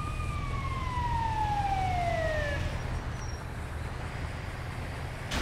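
An ambulance siren at an airport sweeps downward in a long wail and then fades, heard over a steady rumble of traffic and background noise.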